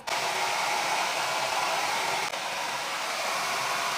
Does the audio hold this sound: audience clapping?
no